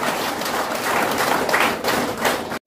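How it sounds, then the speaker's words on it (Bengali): Audience at a business event clapping together, a dense, loud burst of applause lasting a couple of seconds before cutting off abruptly. "তো আরসিএম বিজনেসের জন্য আবার জোর করে হাততালি হোক।"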